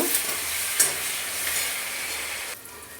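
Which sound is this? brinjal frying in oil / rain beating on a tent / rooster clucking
brinjal frying in oil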